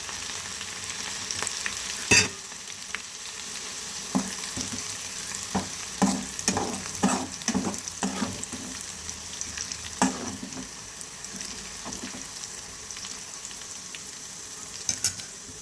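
Garlic fries in oil with crushed cumin, ajwain and mustard seeds for Maharashtrian bhadang, a constant soft sizzle broken by a string of sharp spoon scrapes and clinks against the pan.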